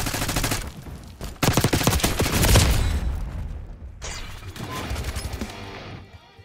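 Gunfire in Call of Duty: dense, rapid automatic bursts crackle loudly, fade into rumbling echoes, then return as a second quieter volley before dying away.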